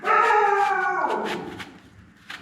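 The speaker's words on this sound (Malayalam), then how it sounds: "Leo ഉടന്ന് കുരയ്ക്കണം guys" A dog vocalizes close by with a drawn-out howling whine that slides downward, followed by a few softer yips and a short final bark, loud at first then tapering.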